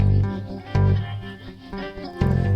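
Sustained plucked notes from a Chapman Stick with heavy wavering vibrato and a long reverb wash, a slow melodic line over low bass tones.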